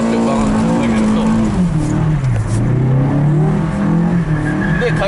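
A naturally aspirated car engine held near 6000 rpm bogs briefly as the clutch is dumped, then climbs again while the tyres squeal loudly during steady-circle drift practice.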